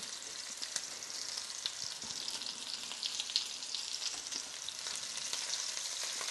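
Meatballs searing in a pan full of grease, a steady close sizzle and crackle with small pops, even and continuous from start to finish.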